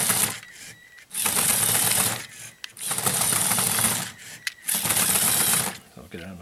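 A motorized, modified Lego Technic Extreme Adventure vehicle whirs and grinds in loud mechanical bursts separated by short pauses, with gear chatter running through each burst.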